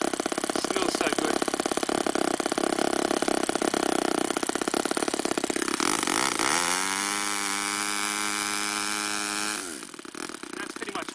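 An RC buggy with a real four-stroke engine revs hard, a loud buzzy high-pitched whine held near flat out, then it drops and climbs again as the gear shifts before easing off.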